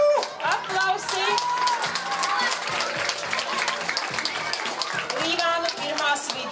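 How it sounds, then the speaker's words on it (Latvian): Audience applause at a school song festival in Līvāni, a steady wash of many hands clapping with a sustained musical tone underneath. "Aplausi!"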